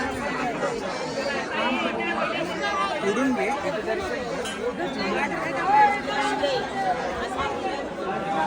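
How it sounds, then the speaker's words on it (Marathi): Dense crowd of pilgrims climbing Jejuri fort, a thick babble of many voices chattering close around, continuous and busy with no pauses. "आपण सुरुवात गड चढायला सुरुवात केलेली आणि खूपच क्राऊड आहे."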